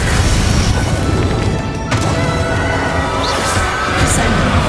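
Bombarda spell explosion in Hogwarts Legacy: a loud booming blast with crashing debris, dense and sustained for a few seconds with a sharp crack near the middle.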